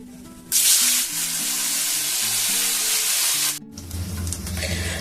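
Homemade pav bhaji spice mix hits melted butter with a little refined oil, bursting into a loud, steady sizzle that holds for about three seconds, then cuts off and settles into a lower bubbling hiss with faint clinks of a utensil.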